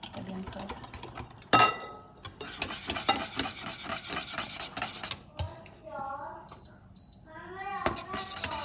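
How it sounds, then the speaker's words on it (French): Milk stirred in a small pan over high heat to keep it from scorching, giving steady scraping and rubbing strokes with a brief louder clatter, while a person talks over parts of it. "moi je touille pour pas que ça crame"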